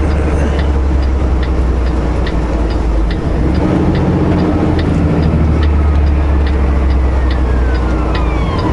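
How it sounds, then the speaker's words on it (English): A police car with its siren going passes through border-crossing traffic toward Canada, loud and close over the steady drone of road and engine noise, with no talking. "Here comes another police car, I believe."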